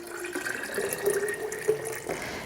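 Water streams into a jar for kombucha, a steady pouring flow with a rising tonal ring as the vessel fills, close and fairly quiet with no talking over it.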